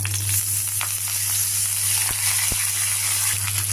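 Curry leaves sizzle in hot oil for a tempering with cumin, mustard seeds, chilli pieces and asafoetida, making a close, continuous hissing fry with scattered small crackles and pops over a low steady hum.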